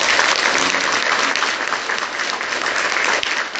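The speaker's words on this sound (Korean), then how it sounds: "우리 반갑다고 박수 한번 쳐드립시다." Congregation at a Catholic Mass bursts into steady applause, dense clapping filling the room continuously from start to finish with no talking over it.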